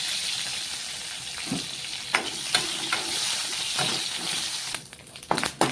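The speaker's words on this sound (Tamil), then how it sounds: "வெண்டைக்காய் மோர் குழம்பு 2 உப்பு போட்டு வதக்கணும்." Okra sautés with salt in a pan, giving a continuous sizzle broken by sharp scrapes and taps of a spatula, ending with a cluster of clatters. No voice is heard.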